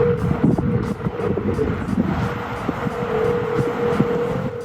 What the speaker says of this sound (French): Il s'avère en fait que c'est le chant du célèbre Golden Gate Bridge à San Francisco.